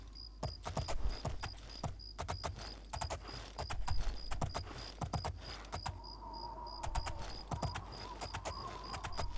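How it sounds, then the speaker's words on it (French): A horse walks in the video game Oblivion while being led into a castle, its hooves clip-clopping in a steady, close rhythm over a low, constant ambient hum. "Attends, mon cheval, je vais te faire rentrer dans le château."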